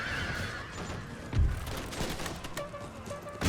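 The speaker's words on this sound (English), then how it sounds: "do not pursue, but fire pistols first" Scattered pistol fire crackling across an Empire 2 battlefield amid a steady din of fighting, with uneven pops and a few louder bangs, distant and mixed with faint horse noises.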